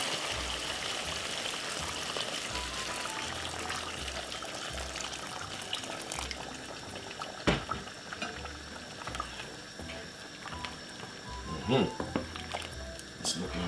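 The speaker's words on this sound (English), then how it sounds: "So you have to add some boiling water to this now." Boiling water is poured into a pot of Jamaican curry goat, giving a steady bubbling, liquid rush that runs throughout under a person talking, with a couple of brief clunks near the end.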